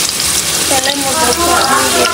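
Chopped onion goes into hot oil already holding fenugreek seeds and fries with a loud, close, bubbling sizzle. The crackle runs steady and continuous, with faint stirring and no talk.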